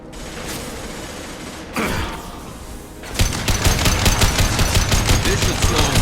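Gunfire in the video game Mass Effect 2, dense rapid automatic bursts with mechanical rattling, continuous and loud, growing heavier in the second half.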